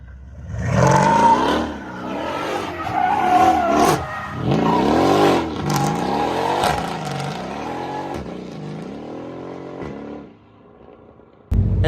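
A Mercedes CLS63 with a Hellcat X-pipe exhaust revving hard, loud rising and falling engine roars repeated several times close by, then settling to a lower idle before a sudden cutoff.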